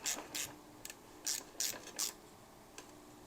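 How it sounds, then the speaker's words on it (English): A nut is tightened on the swingarm of a 1972 Harley-Davidson XLCH Ironhead Sportster during a rebuild: a series of short, close ratcheting rasps in uneven bursts, with quiet gaps between strokes. "Maybe I'll tighten this nut down first."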